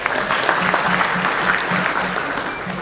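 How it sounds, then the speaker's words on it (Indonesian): A stand-up comedy audience claps steadily throughout, a dense, even spread of hand claps filling the room with no talk over it. "Tepuk tangan buat Indonesia"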